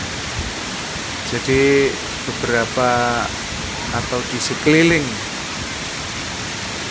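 The Sekar Langit waterfall in Central Java roars as water plunges straight down, a constant broadband hiss beneath intermittent talking.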